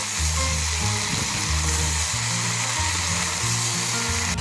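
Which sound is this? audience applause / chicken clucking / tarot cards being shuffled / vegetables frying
vegetables frying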